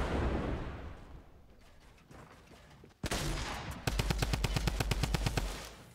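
Rapid FAMAS gunfire in a Fortnite match, a hard burst followed by a long, evenly spaced string of loud, close shots after a quieter stretch of ambient rumble.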